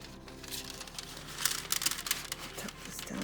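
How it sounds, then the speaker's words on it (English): Crinkling and rustling of a junk-mail paper envelope being opened by hand, close and moderately loud, with a flurry of crisp crackles in the middle. "Open our envelope."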